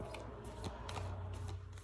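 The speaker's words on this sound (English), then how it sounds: "I'm gonna shuffle these really good." Tarot cards being shuffled during a reading, quiet close riffling and sliding bursts of paper cards in short irregular strokes against a soft low background hum.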